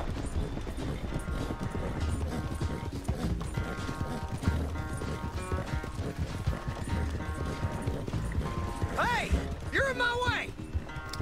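Horse hooves clip-clop steadily at a gallop during a race in Red Dead Redemption 2, a constant rhythmic patter under game sounds, ending with a horse's whinny near the close.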